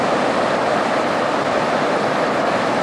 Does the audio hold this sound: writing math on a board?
no